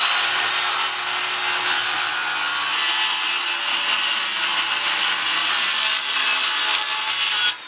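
Wood being hand-sawn to cut out an elongated hexagon tabletop for a coffee table, a steady close rasping stroke that runs continuously for several seconds before stopping abruptly.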